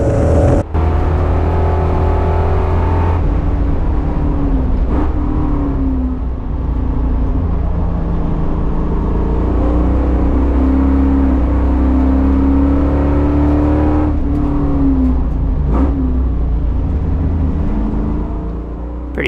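Chevrolet Caprice with a T56 manual gearbox racing counterclockwise at Streets of Willow, its engine droning loud and close throughout, pitch rising and falling through gear changes and corners, with steady wind and road roar.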